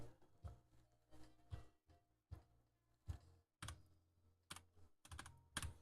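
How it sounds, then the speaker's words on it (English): Fast typing on a computer keyboard, irregular bursts of close clicks and clacks with brief pauses, quiet and with no talk. "the hackers will get that code by listening to the sound of the keyboard"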